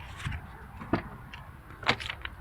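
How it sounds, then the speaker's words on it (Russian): Front doors of a Honda Fit Shuttle without sound insulation slam shut twice, a few moments apart, each a sharp close, hollow metallic thunk with some rattle, heard alone against a quiet background. "Вот так звучат передние."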